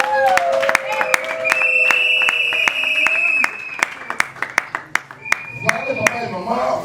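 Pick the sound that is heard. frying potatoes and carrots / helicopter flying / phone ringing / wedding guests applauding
wedding guests applauding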